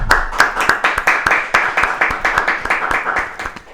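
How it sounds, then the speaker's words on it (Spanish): A live audience claps in a fast, even rhythm to welcome Daniel Nasta. The applause is loud and close and runs throughout, with no talk over it. "vamos a recibir con un fortísimo aplauso al querido"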